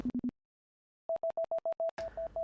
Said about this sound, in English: The synth is playing a 16th note arpeggiator.